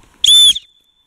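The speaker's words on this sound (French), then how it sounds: "C'est vraiment violent comme sifflet." A Quechua whistle gives a single short, piercing, very loud shrill blast lasting about a third of a second, then stops abruptly.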